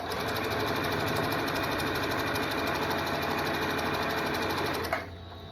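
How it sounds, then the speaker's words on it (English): A sewing machine stitches a tote bag strap with a loud, steady, close mechanical whir that runs continuously and stops abruptly near the end. "I keep sewing."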